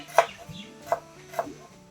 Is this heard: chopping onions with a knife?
yes